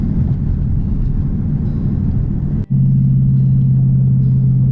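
Ford Mustang GT running on flex fuel while driving, a steady low engine rumble from inside the car, briefly dipping midway before settling into a smoother, even drone.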